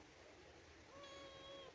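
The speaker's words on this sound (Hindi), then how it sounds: "आज ब्लैक कलर की बिल्ली आई है" A black cat meows in a drawn-out, tonal call, starting partway through and fairly close, over a quiet room background.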